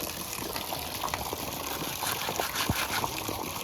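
Water in a tarpaulin-lined backyard fish pond splashing and gushing as new fish are released into it, a continuous close churning of liquid with small splashes scattered throughout.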